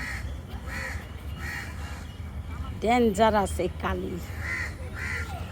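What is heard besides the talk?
crow cawing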